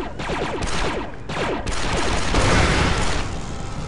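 Sniper rifle fire echoing indoors in Star Wars Republic Commando, a dense run of sharp, loud shots and blasts with rumbling reverb and debris layered over continuous combat noise.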